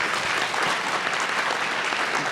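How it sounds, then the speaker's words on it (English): Steady audience applause fills a symposium hall after a panel discussion, dense and even clapping from a large crowd throughout, with no voices over it. "Round of applause, everybody."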